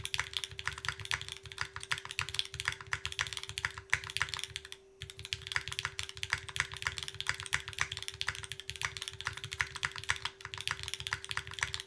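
Rapid, continuous typing on a Neson Design × Zephyr Lab Z1 mechanical keyboard with lubed linear switches and an aluminum plate, dense soft clacks close up with a brief pause midway, over a faint steady hum.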